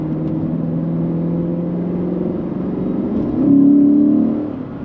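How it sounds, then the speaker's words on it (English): A V8 car engine with an exhaust flap revs up gently from a low rumble, then swells into a louder, throatier growl as the flap opens before easing back, with no one speaking. "So let me go ahead and just ease into it and you'll hear it."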